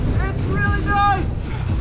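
A Yamaha 15 HP outboard motor, fitted with a new lower unit and water pump, fires up on the first pull and keeps running close by while people shout excitedly over it.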